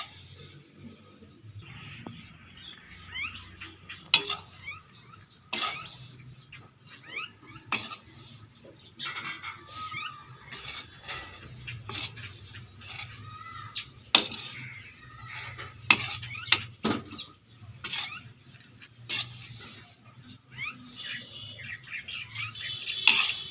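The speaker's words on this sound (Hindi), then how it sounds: "चम्मच इसका बराबर हिलाते रहें ताकि आटा जो है अच्छे से तैयार हो जाए" A metal spoon scrapes and clinks repeatedly against a wok while 1.5 kilograms of rice flour roasts over low heat, giving irregular close scraping strokes with sharp taps in between.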